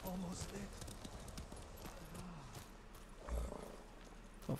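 A horse trots with rhythmic clip-clopping hooves in Ghost of Tsushima, set on Tsushima island, the footfalls fairly close, with a low thump and some tonal game sound mixed in, and a voice briefly present.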